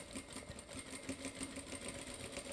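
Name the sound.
sewing machine stitching a seam on a puff sleeve dress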